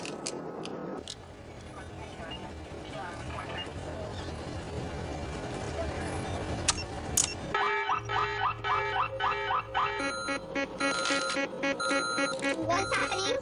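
An alarm going off in a tense scene, a repeating electronic beeping pattern that starts partway through and continues over a steady mechanical rumble, with people talking underneath.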